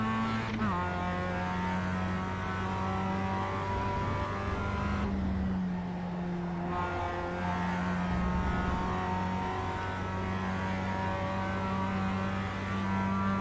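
Mazda MX-5 race cars in iRacing at Laguna Seca, engines droning and shifting pitch steadily as they run close together, a continuous loud multi-car roar with gear changes, no talk.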